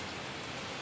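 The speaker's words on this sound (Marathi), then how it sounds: "आता परत पाऊस आला जोरात." Heavy rain falling outdoors during fibre line joining work, a dense, steady hiss of drops with no other sounds over a brief moment.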